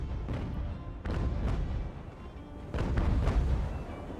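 Cannon broadside from sailing warships in the naval battle game Ultimate Admiral: Age of Sail, with heavy booming volleys rolling out in several overlapping bursts and a dense rumbling tail between them.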